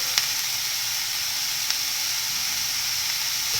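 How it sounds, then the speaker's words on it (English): Onions and coriander leaves sauté in a pan with a steady, even sizzle and hiss, broken by a couple of faint clicks, with no voices. "Along with the onions, I am going to add half of the coriander leaves with the onions and saute them"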